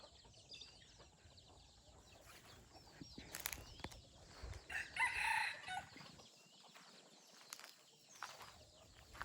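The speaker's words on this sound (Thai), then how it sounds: "เบิ่งไก่แจกไก่ป่า เพื่อนเอามาปล่อยอยู่ป่า มันก็เลยเป็นไก่ป่า" A wild junglefowl rooster crows out in the forest, its drawn-out call standing clear above a faint outdoor background, with softer fowl sounds around it.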